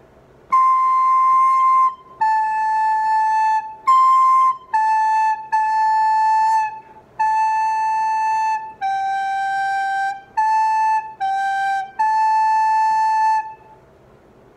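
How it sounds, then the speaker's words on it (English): First line of the song Indian Chant played as a simple melody of about a dozen pure, whistle-like sustained notes with short gaps between them, clear and alone. "If I play the whole first line of Indian Chant"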